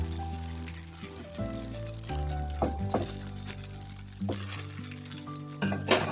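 A semolina snack batter fries in a pan after being flipped, giving a low steady sizzle broken by several clinks of a utensil against the pan, with a louder clatter near the end and no talking.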